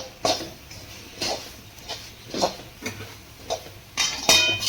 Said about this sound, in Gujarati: હવે આપણે એને મિક્સ કરી નાખશું.